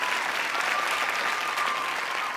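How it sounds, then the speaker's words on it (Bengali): Dense, steady audience applause fills the hall for the finalists at the grand finale of a televised presentation reality show, a continuous loud wash of clapping hands with no break. "করতালি হবে"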